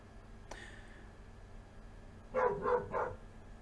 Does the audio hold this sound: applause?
no